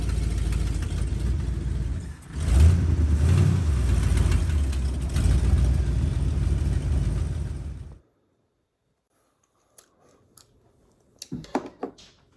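An old Ford dump truck's engine runs loud and close for about eight seconds with a rough, lumpy idle and one brief surge, then cuts off into near silence broken by a few faint knocks.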